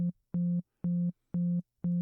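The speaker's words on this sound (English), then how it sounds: "look at different kinds of distortion and how they affect a sine wave" A steady sine tone fed through an overdrive distortion pedal, sounding as five evenly spaced, buzzy bursts, each roughly a quarter second long and thick with added harmonics, separated by short silences.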